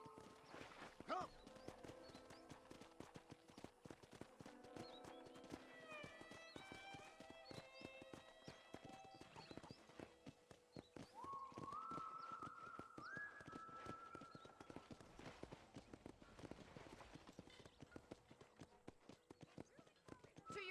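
Horse hooves clip-clop steadily in the Red Dead Redemption video game as a horse is ridden across a ranch, a continuous rhythmic patter under speech and music, with a brief whinny partway through.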